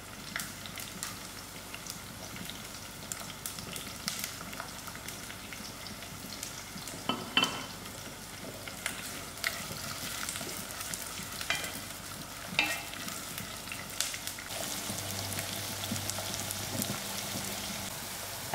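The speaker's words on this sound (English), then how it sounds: "now I'm putting in my sliced onions and allow this to brown a little" Sliced onions browning in half a cup of hot oil, a steady crackling sizzle like light rain, with occasional louder pops and faint scrapes throughout.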